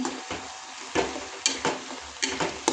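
Carrot halwa with cardamom powder stirred in a pan, close spoon scrapes and knocks in an uneven rhythm over a faint bubbling simmer.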